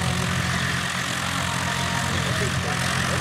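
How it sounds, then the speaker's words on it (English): A small propeller plane roars steadily at full power during a short-field takeoff competition in New Holstein, a loud, constant engine drone with a low propeller hum and no break throughout. "Jeff Russell, takeoff number two."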